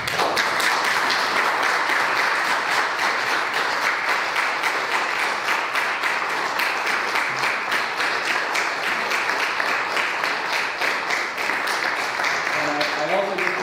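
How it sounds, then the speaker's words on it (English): A church congregation applauds seniors during a Sunday morning service, a dense, sustained wash of clapping from many hands that stays loud and even throughout, with faint voices at the very end. "I just want to take a moment for us as a church to just applaud them."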